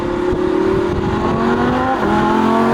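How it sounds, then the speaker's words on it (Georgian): The V10 engine of a Lamborghini Huracan roars in a loud, continuous drone, its pitch climbing steadily as it revs, heard close with no voices. "10 ცილინდრიანი ემოციებით სავსე გრუხუნა, რო გაივლი და გვერდზე ყველაფერი ინგრევა"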